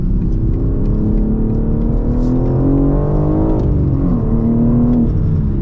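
A manual BMW M3 engine pulls hard through a quick turn, a steady, loud, close growl whose pitch rises and dips with the throttle, and no voices.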